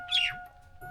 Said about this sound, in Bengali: চালে পাখি ডাকছে।